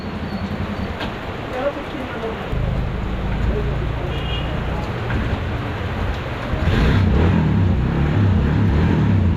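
A Kawasaki Barako motorcycle engine idling in neutral after being started, a steady low rumble that grows louder and rougher toward the end, with no talk.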